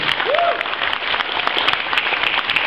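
An audience gives a brief round of applause, many hands clapping steadily and close, with a faint voice and crowd murmur underneath.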